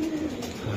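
Strong pigeon giving a brief, low coo close up, a single short phrase with no talk.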